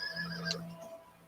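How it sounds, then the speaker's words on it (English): A horse gives a brief, high neigh, a short whinny that rises and fades within about a second against a faint steady background hum. "The horse."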